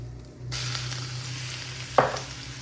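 Pickle masala, curry leaves, dried red chilies and garlic hit hot oil for a garlic potato curry, a steady sizzle with a sharp crackling burst partway through, close and fairly loud.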